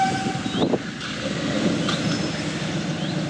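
A narrow-gauge steam locomotive stands being watered, giving a steady mechanical rumble with metallic clanks, a brief hiss and faint squeals, close and continuous with no voices.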